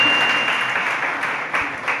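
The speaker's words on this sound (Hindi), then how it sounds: "आप तो कहते हैं ताली तो बजाओ" An audience at a Jain religious sermon claps in a dense, even burst of applause, loud and sustained with slight swells.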